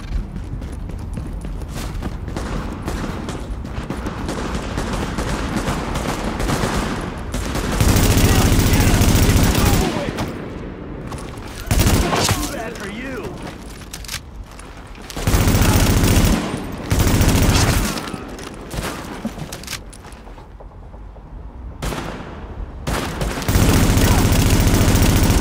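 Gunfire in the video game Tom Clancy's The Division: loud bursts of automatic fire come in repeated volleys between stretches of lighter shooting, with a synthetic game voice issuing warnings between shots.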